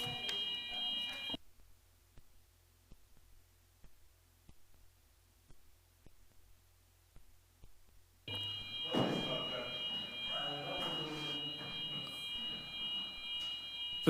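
Fire alarm sounding through a council committee meeting room, a steady piercing tone at the start, cutting out for several seconds, then returning loud with a rumble of room noise and movement.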